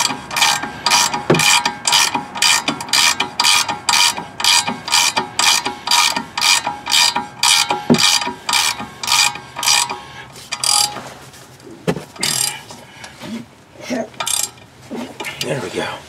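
A hand ratchet tightens a bolt on a 2008 Nissan Armada with no heat: loud, close, rapid rhythmic clicking in steady repeated strokes, then slower irregular clicks near the end, with someone talking at times.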